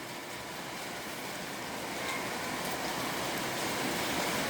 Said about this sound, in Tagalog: malakas po na naman ang ulan.